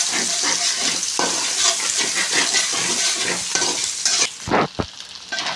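Eggs frying in oil for egg rice, stirred briskly in a pan with a continuous loud sizzle and rhythmic scraping strokes, ending in a couple of sharper knocks.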